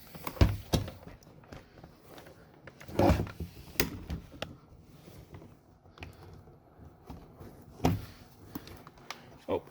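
Interior door card pried off a Subaru Legacy GT: scattered plastic clip pops and thunks, a few sharp knocks among quieter rustling and handling, close and irregular.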